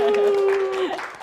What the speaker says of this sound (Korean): 오늘의 주인공 유현진 작가님을 뜨거운 박수로 모시겠습니다.